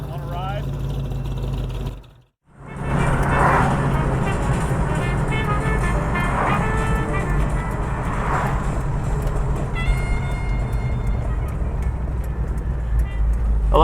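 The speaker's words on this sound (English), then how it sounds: "I love these old station wagons here. It's 1967 Chevelle." A 1967 Chevrolet Chevelle Malibu station wagon being driven, its engine humming steadily from inside the cabin with road and wind noise, a short dip partway through, then a rising surge as it accelerates.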